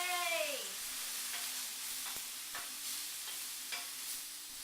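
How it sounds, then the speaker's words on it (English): Steady broadband sizzling of food frying in a pan, continuous and close, with a few faint clicks and a low hum underneath. "I like the sizzle sound."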